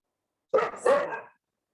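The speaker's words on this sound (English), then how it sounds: "My dog is telling me that it's a long video already" A pet dog gives two short, close barks in quick succession, loud and clear with no other sound around them.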